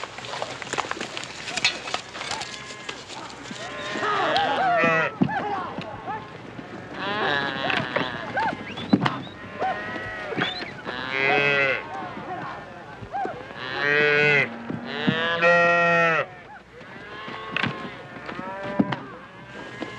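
Cattle on a ranch during branding moo repeatedly, a mix of long and short calls from several animals at close to middle distance, with people talking now and then.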